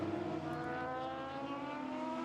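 A 2006-chassis Aston Martin GT race car comes downhill during qualifying, its engine a steady, loud, multi-toned drone with no talk over it.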